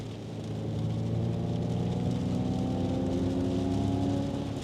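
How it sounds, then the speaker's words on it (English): A synthetic propulsion tone from a Mustang Mach-E GT electric car under acceleration hums as layered steady pitches that slowly climb, droning continuously and fairly loud inside the cabin with no one talking. "A lot of these brands throw these propulsion sounds in here, these acceleration sounds."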